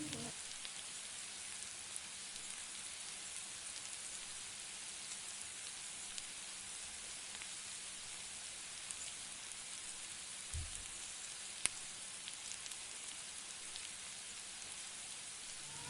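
Papdi fry in hot oil with a steady, even sizzle that holds at a moderate level throughout, with only an occasional faint tick or pop.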